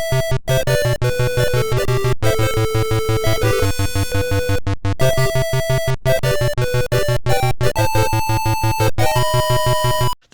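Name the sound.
Power Drift video game music on Tandy hardware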